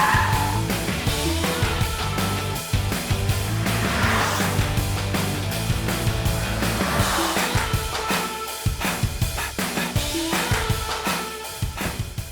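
A Honda City sedan takes a corner at speed, its engine note loud and sustained, with a busy rushing roar of engine, road and wind throughout and no speech.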